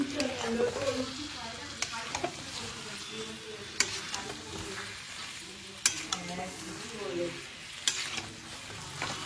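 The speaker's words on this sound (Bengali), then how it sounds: "এবার আমি চিকেন দিয়ে এটাকে ভালো করে কষাবো।" Fried chicken pieces sautéed and stirred in a spicy Punjabi-style curry in a pan, a steady close sizzle broken by sharp spatula scrapes and clinks against the pan every couple of seconds, without talk.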